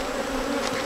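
Honey bees buzz steadily at a hive in Saint Lucia, a dense continuous drone close by with no talk over it.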